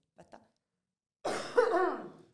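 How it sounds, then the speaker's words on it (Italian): Two faint short breaths or clicks, then a single harsh, loud cough that trails off, close to the listener with no talking. "Tosse."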